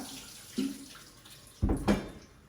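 Cold water from a kitchen tap pours over boiled beans draining in a colander. It comes through as a few brief, close splashes and gushes against a quiet background.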